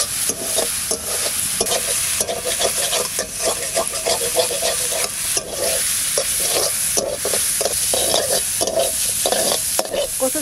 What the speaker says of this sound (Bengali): কচু শাকটা ভাজা হয়ে গেছে